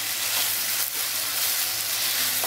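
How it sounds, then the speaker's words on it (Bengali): Grated coconut fries in sesame oil with chicken in a pan, giving a steady, close, even sizzle throughout with no voices. "নারকলটা এর মধ্যে ভাজা হবে।"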